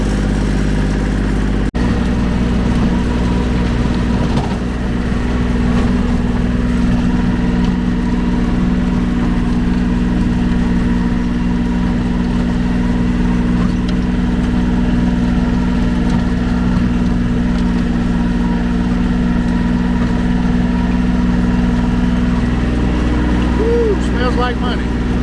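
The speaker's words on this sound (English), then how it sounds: "we can go ahead and at least have that done while the tiller's still on the tractor" A tractor engine with a tiller attached runs continuously outdoors, a loud, steady low rumble and drone that barely changes over the whole stretch.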